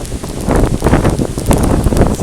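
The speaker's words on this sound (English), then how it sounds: "Very windy." Strong gusting wind buffets a microphone outdoors near the Eas Mor waterfall at High Kildonan during a spate, a loud, continuous broadband roar with surging gusts and no speech.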